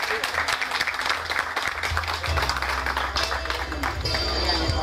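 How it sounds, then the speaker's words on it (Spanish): Crowd applause at an outdoor town festival celebration, a loose scattered clapping over low rumbling music and background noise, fairly loud and continuous throughout. "la doctora Berta Marina Flores, por quien pido un fuerte aplauso, por favor."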